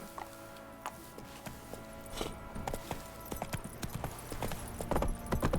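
Horse hooves clip-clop in a video game in an uneven walking rhythm, close and gradually growing louder, over a faint ambient background.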